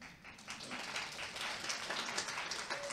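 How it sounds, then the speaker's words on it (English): A seminar audience applauds with moderate, continuous clapping at medium distance, building slightly and holding steady without voices over it. "we give a warm applause to Member of Parliament Antero Laukkanen that arrived."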